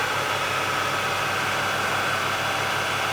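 A BMW car engine idles steadily during a home air conditioning recharge, giving a smooth, even hum with a constant low throb and no voices.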